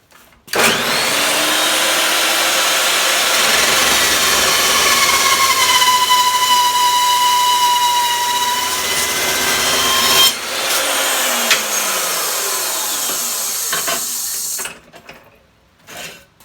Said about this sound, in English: I'm going to just cut right down the center to get this into two pieces